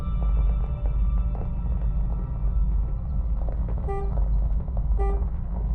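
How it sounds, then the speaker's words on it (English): Two short, bright honks from a vehicle horn in the video game Outbound sound about a second apart over a continuous rumbling engine drone. "Apparently pushing sprint just makes you honk your horn."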